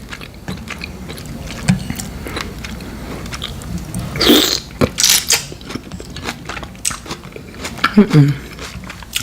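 Close-up eating of mussels and king crab with sauce, wet crunchy bites and shell cracking in bursts, loud and near, with chewing between the louder crunches.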